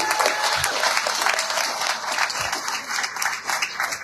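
A rally crowd applauds steadily, with dense clapping that holds at a fairly loud level for the full few seconds and carries no talk over it.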